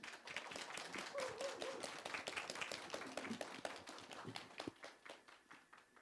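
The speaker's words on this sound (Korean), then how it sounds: "이 영재 문학 소년에게 힘찬 박수 부탁드립니다" An audience at a citizen-writer event during a book festival claps with sharp, irregular hand strikes, moderately loud and fairly close, thinning out in the last second.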